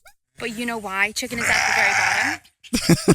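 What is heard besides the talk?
sheep bleating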